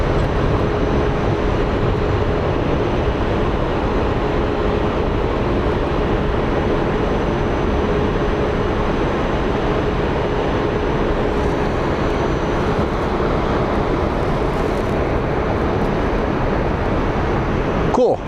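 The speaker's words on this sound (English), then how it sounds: "We have our Frontier getting ready to depart for Cleveland. That's taxiing right now." A Frontier Airbus airliner taxis for departure to Cleveland at Phoenix Sky Harbor airport, heard as a steady, loud, broadband engine roar that continues unbroken throughout.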